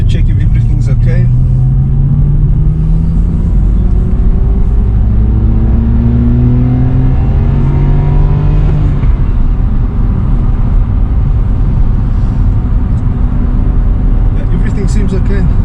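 A BMW E90 with the N52 straight-six on a test drive after head gasket replacement, engine note rising and falling as it moves through the gears, steady and fairly close with road noise.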